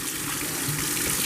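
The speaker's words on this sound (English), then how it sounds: "And we're going to put water in them to keep." Tap water runs steadily into a bowl to soak vegetables, a continuous, fairly loud rushing gush with no pauses.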